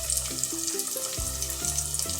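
Homemade breaded chicken fries in hot oil, giving a steady, close crackling sizzle with faint splashy bubbling throughout and no one talking.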